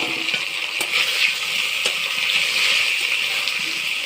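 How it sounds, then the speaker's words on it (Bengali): Taro roots (kochurmukhi) sizzle as they go into frying spice paste in a pan, a steady hiss with a few soft clinks and stirring scrapes, close up with no talk. "এবার আমি কচুরমুখীগুলো দিয়ে দেব।"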